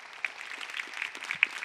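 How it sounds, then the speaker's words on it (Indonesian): Light, faint scattered clapping from a studio audience at a national political talk show, a brief patter of uneven claps with no one speaking over it. "Tepuk tangan dong."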